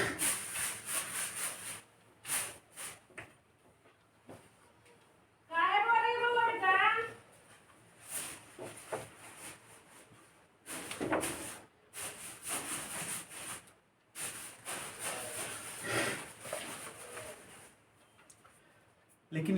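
A board being wiped clean in a classroom, heard as bursts of firm back-and-forth rubbing that stop and start, close up, with a voice speaking briefly partway through.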